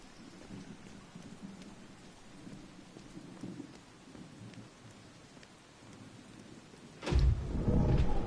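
Steady rain and rolling thunder fill a video game scene, a low rumbling wash under the rainfall that swells into a loud, close thunderclap near the end.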